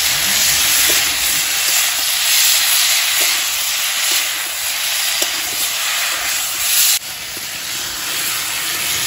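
Water poured into hot frying masala for a cauliflower curry sets off a loud, steady sizzling hiss that holds for several seconds before dropping slightly toward the end.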